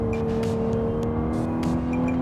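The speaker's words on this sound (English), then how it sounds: "I'm sure you heard a little bit of that engine sound" A 2024 Volkswagen Atlas engine pulls at full throttle in sport mode, a steady close droning hum with a rising tone, heard from inside the cabin without talk.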